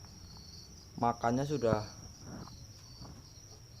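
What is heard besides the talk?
crickets chirping in a breeding box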